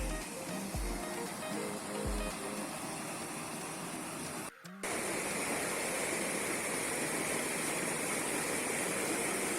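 A large waterfall rushes with a continuous broadband roar, with a few faint thumps early on and a brief break before the steady pouring flow resumes louder.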